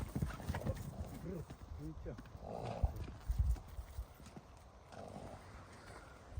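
Hooves of a trotting mare clip-clop in a steady rhythm while people talk over it, with faint background noise outdoors.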